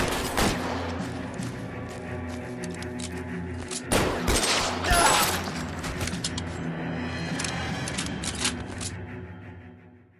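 A gunfire shootout in the video game L.A. Noire plays as a dense, sustained barrage of shots and booming impacts, loud and continuous across the whole stretch.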